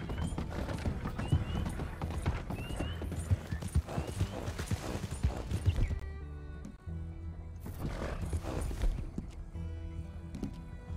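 A tired horse in Red Dead Redemption 2 clops along with steady, close hoofbeats and a whinny, over game background sounds that thin out midway before the hooves pick up again.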